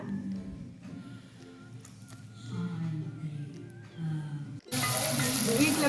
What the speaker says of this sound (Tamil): நான் மீன் குழம்புக்காக தாளிக்கிறதுக்கு ரெடி பண்ணிட்டேன்